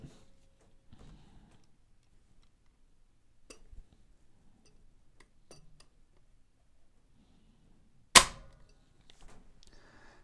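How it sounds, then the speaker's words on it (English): A Beretta 1301 Competition Pro shotgun trigger, pulled with a Lyman digital trigger gauge, releases with one sharp, loud snap in an otherwise quiet room with faint tabletop handling noises. "Let's go ahead and pull out our Lyman digital trigger gauge, and we're going to check this trigger."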